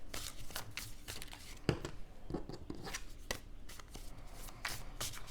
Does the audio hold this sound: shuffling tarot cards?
yes